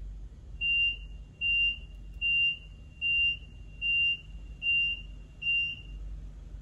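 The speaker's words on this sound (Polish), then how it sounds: "Should an incident be detected in your carriage, the following alarm will sound." A train shuttle carriage incident alarm sounds as seven evenly spaced, shrill electronic beeps, each about half a second long, standing out clearly over a low rumble.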